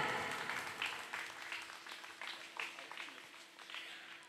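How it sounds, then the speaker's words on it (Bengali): Applause from a theatre festival audience greeting a guest called to the stage, a steady wash of many hands clapping at moderate distance with a faint constant hum beneath. "স্যারের জন্য একটা জোরে হাততালি।"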